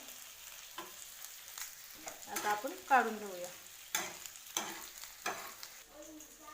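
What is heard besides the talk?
roasting coconut in oil in a pan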